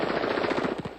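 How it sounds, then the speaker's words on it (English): Dense automatic gunfire from a hail of shots during unrest in Gaza, a rapid, continuous rattle of bursts at close range with no talking over it. "At one point during her visit, she was caught in a hail of gunfire."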